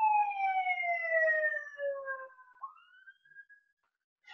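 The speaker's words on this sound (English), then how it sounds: "oh, it's an ambulance." An ambulance siren sounds loud and close in a slow, falling wail, then drops in pitch and fades as the vehicle moves away.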